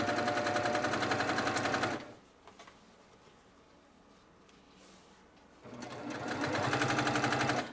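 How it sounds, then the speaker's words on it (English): A sewing machine runs in two close, rapid bursts while stitching a quilted table topper, with a quiet pause of a few seconds between the runs as it backstitches. "I'm going to back stitch just a little bit."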